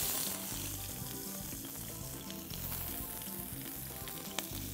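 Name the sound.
chaya, onions and garlic sautéing in a pan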